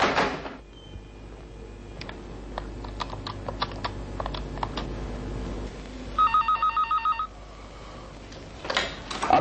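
A telephone rings in an indoor drama scene after a burst of keyboard typing. A rapid electronic bell rings once in a short, loud, pulsing ring, then it stops.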